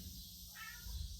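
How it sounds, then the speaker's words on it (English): A cat gives a single short meow in a quiet garage during an early Bronco build, faint and close over a low background hum. "Gonna have some company in here with the cats"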